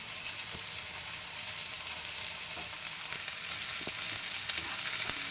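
Onions with ginger garlic paste frying for chicken gizzard curry, a soft continuous sizzle dotted with faint pops and scraping stirs, growing slightly louder toward the end.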